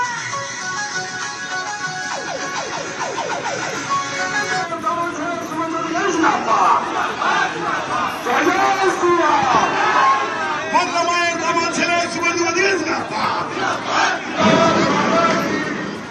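A large crowd chants and cheers in a rolling, continuous roar at a political thanksgiving procession, loud and sustained throughout with rhythmic surges.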